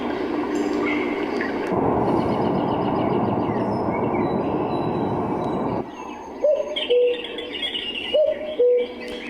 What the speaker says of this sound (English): Kind of a loud owl, so I'm not sure I like that one.